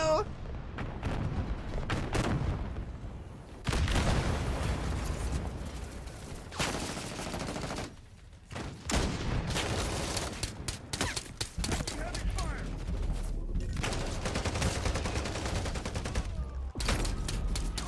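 A video game artillery strike and gunfire play as dense bursts of rapid shots and booming impacts, loud and continuous with short gaps, while a voice talks over parts of it.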